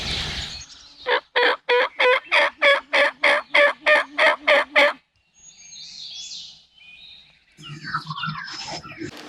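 A wild turkey gobbler gives a rapid burst of about a dozen rhythmic gobbling pulses, fairly close and loud. Fainter bird calls and rustling sounds follow.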